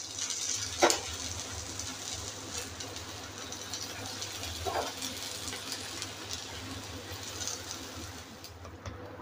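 Jowar thalipeeth fries in oil with a steady, even sizzle and hiss, broken by a couple of light clicks from the pan.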